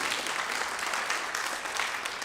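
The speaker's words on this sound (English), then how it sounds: "Let's keep the applause going for Peace Akintade." Sustained audience applause at a spoken word poetry showcase, steady dense clapping from a crowd throughout, fairly loud and without breaks.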